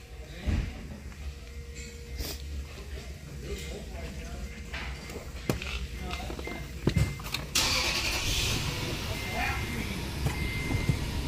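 A 2005 Toyota Tundra with a 4.7L engine, misfiring and running rough with a coil unplugged, cranks and fires up, then settles into a loud, uneven idle close by, with people talking over it and a few sharp clicks.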